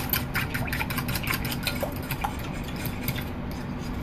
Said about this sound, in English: I'm going to break my yolks, poke my yolks